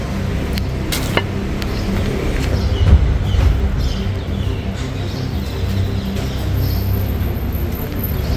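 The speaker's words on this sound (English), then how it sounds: "Some vehicles." Vehicles pass on a street in Rome: a steady low traffic rumble and engine drone, close and fairly loud, with a few sharp clicks and ticks scattered over the top.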